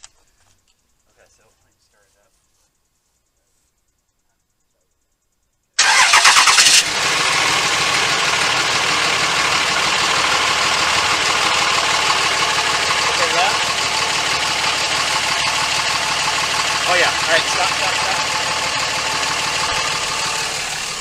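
A Dodge Ram pickup's engine cranks and catches after about six seconds of near silence, then settles into a steady, loud idle that runs to the end with little change.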